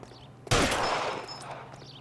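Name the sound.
gunshots from the video game L.A. Noire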